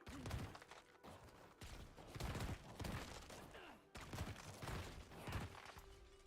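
Corpse explosion skill bursts in the Penitent Necromancer video game, a rapid series of punchy blasts and crunchy impacts repeating every second or so, fairly quiet, with no talk.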